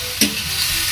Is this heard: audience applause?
no